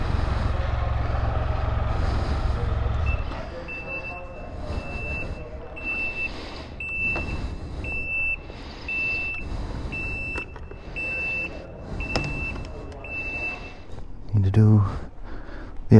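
A vehicle reverses with a steady train of high, evenly spaced backup beeps, near and clear, under light talk and background road noise, with a low engine rumble at the start.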